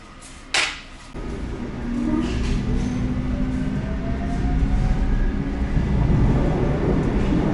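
A graffiti-covered train passes at a street-side station in Erquelinnes, Belgium, its low rolling rumble building steadily after a brief sharp knock and a faint rising whine.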